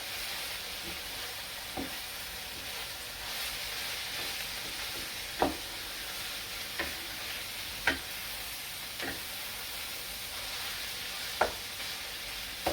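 Cooked mince and pine nuts are mixed in a pan for meat samboosik, a constant soft sizzle with occasional sharp clicks of a utensil against the pan.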